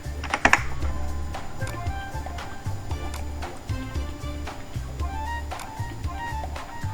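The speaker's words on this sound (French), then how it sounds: "Je tape le code qu'on me demande." Typing on a computer keyboard to enter a requested download code, with scattered key clicks over a steady low hum, fairly close and moderately loud, with no speech.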